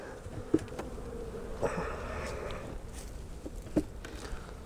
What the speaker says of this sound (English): all the bees are right over in here